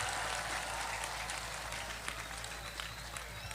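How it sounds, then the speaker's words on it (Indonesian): A congregation at a religious gathering in Jepara applauds in a steady, even patter of clapping that sounds fairly quiet and distant. "Tepuk tangan untuk kita semuanya."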